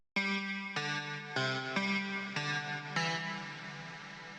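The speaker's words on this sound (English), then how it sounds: "you can use big hall reverb or shimmer to make lead melody sounds more ambient" A synth lead with big hall or shimmer reverb plays six sustained notes in a slow melody, each note ringing out with a wide, shimmering reverb tail that lingers after the last.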